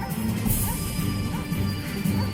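Missile crashing into Downing Street in the Doctor Who episode, a loud sustained smash with rumbling debris and crackling impact noise over about two seconds, heard alone without talk.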